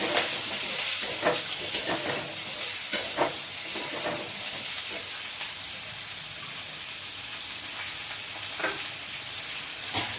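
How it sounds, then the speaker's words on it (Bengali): Mustard seeds and dried red chillies crackle and sizzle as they temper in hot oil, a steady near hiss broken by frequent sharp pops and spits from the seeds. "সর্ষে আর শুকনো লঙ্কাটা ফোড়ন দিয়ে দেবো।"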